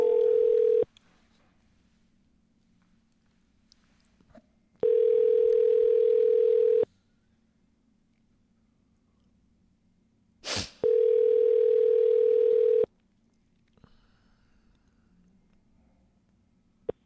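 Outgoing cold call ringing on a telephone line, three long steady ring tones spaced by silent gaps, clear and close, with a brief click between the second and third.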